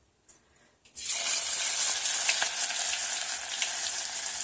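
Ginger for Kolhapuri misal hits a hot pan after a couple of soft knocks, then a steady, close frying sizzle holds without a break.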